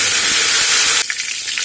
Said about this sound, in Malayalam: അതിലേക്ക് നമുക്ക് ആദ്യമേ കടുക് ഇട്ട് കൊടുക്കാം